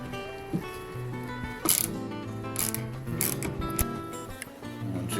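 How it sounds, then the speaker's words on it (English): A T30 Torx driver works loose the three bolts on a Nissan Altima rear door latch, giving a steady metallic ratcheting and grinding with a few sharper scrapes, close and fairly loud throughout. "you'll need to take a T30 and remove the 3 bolts off from the latch mechanism"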